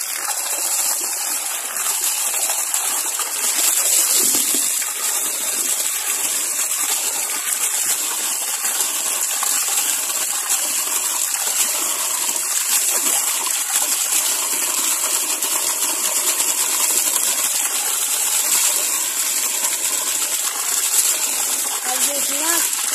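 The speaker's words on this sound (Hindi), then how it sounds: "और ये इतना जोरों से इसमें पानी आ रहा है पाइप में" Water gushes forcefully from a pipe during a buffalo bath, a continuous loud bright rushing and splashing that stays steady throughout.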